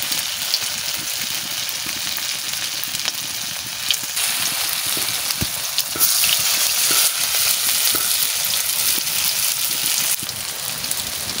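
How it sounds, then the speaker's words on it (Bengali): Potato peel chops frying in hot oil, a steady loud sizzle and crackle that goes on throughout with small pops, and no voices. "বাবা কি সুন্দর, কি সুন্দর ভাজছে বন্ধুরা"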